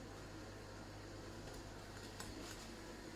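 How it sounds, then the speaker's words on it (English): A washing machine runs in a home kitchen, a faint, steady hum and whir with a low drone and soft, uneven rattling, alone without speech. "That is a washing machine in the kitchen."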